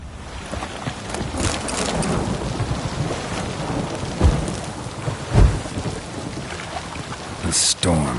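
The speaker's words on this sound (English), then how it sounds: "The storm, damn it." Thunderstorm in the video game The Witcher, with steady heavy rain hissing throughout and two deep thunder cracks rumbling in the middle, followed by a sharper burst near the end.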